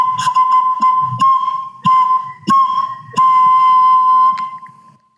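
An oja flute is blown with the upper lip curved to reach chromatic notes, giving a breathy, whistle-like tone that shifts pitch in short, separate notes with soft breath noise and brief gaps between them.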